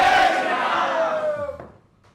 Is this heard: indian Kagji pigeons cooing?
no